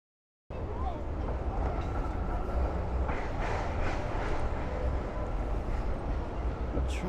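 A tram rolls along Elizabeth Street in the city on a sunny day, a steady rumbling rail noise with faint clatter, fairly close and continuous under the street's background hum.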